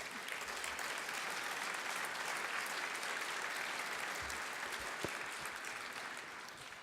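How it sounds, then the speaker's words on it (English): Audience at an international award ceremony applauds a Norwegian hard-quarry winner, a steady wash of distant clapping that fades slightly toward the end. "some applause again"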